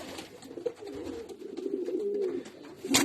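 Young second-brood racing pigeons coo softly and continuously at close range in a loft, a low throaty burbling that rises slightly toward the end.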